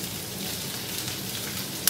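Red onions tossed into a hot pan with coriander seeds sizzle in a steady, close, hissing spray, with a small clack right at the end.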